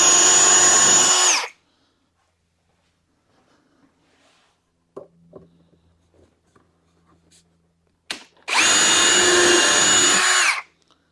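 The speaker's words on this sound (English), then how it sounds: "I'm going to use a 7/32 drill bit to drill these holes" A power drill fitted with a 7/32 drill bit bores holes for a Power Wheels steering upgrade, sounding in two loud, steady whining bursts at the start and end, separated by quiet handling clatter.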